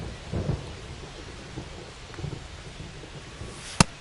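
Steady rain hiss and low rumbling thunder at a ballpark in MLB The Show 25, with a soft roll early on and a sharp, loud crack near the end.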